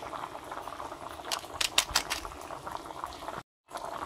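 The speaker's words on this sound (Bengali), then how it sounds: "ঝোল ফুটে গেছে, মাছ দিয়ে দিচ্ছি" Fish curry gravy boils in a pot with a close, bubbling, popping burble, louder in a burst around the middle, and then cuts out briefly before the bubbling resumes.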